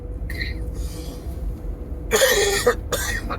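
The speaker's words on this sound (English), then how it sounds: "I apologise for the coughing" A couple of harsh, close coughs in quick succession, with a faint throat sound before them and quiet room noise around.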